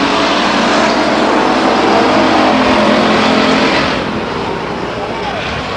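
Race cars running side by side out of turn 4 on the Stockton 99 Speedway oval, a loud, continuous engine roar that dips slightly near the end as the pack moves off, with a commentator talking over it.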